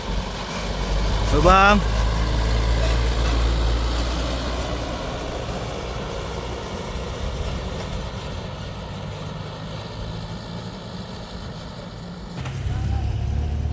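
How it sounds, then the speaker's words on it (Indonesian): A truck hauling palm oil fruit passes on a disaster-recovery road in Sumatra, a heavy engine rumble swelling near and then fading, with someone talking over it early on. "Kita lihat mobil sawitnya"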